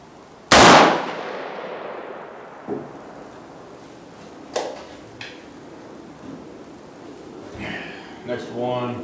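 An AK rifle test firing at a shooting range: one sharp, loud shot with a long decaying echo, followed by quieter clanks and handling noises, with a person talking.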